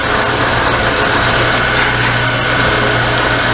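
A drill press drilling thin steel drones loudly and continuously with a constant whine, the even grinding running close up without pause.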